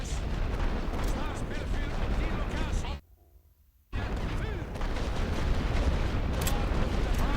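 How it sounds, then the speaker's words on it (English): Continuous artillery fire and rumbling explosions from the WWI game The Great War: Western Front form a dense, loud barrage that cuts out briefly for a second, then resumes, with talk woven through the din. "Artillery's doing a good job."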